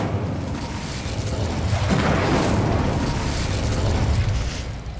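A fire spell cast in Hogwarts Legacy gives a sustained, loud whooshing roar that swells and holds for several seconds before tapering off.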